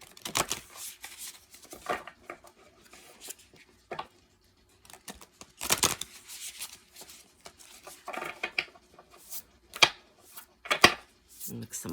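Tarot or oracle cards are shuffled by hand in short, uneven bursts of papery riffling and rubbing, close and fairly quiet, with pauses between bursts.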